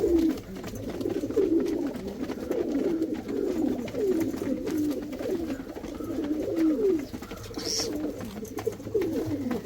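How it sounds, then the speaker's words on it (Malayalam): Pet parakeets in breeding cages, three breeding pairs in green and blue, give soft, low, repeated cooing calls that continue through the whole stretch without talking. "മൂന്ന് ജോഡി കിളിയുണ്ട് മൂന്ന് ജോഡി ബ്രീഡിംഗ് പെയറും"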